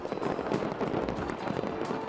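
Fireworks burst over Lake Coeur d'Alene during a 4th of July celebration, a steady, dense crackling and popping that runs for about two seconds at moderate loudness.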